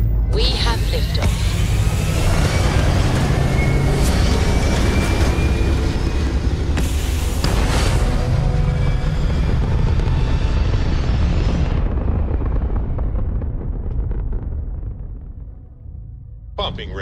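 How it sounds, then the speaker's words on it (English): Spaceship lifting off in the game Starfield, a loud sustained roaring rumble with booming thrust that holds for about twelve seconds before fading out toward the end. "We have liftoff."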